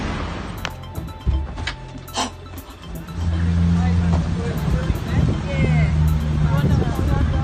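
A car passes on a city road near the National Gallery of Victoria, a rising engine and tyre rumble that swells and holds loud, following someone talking up close.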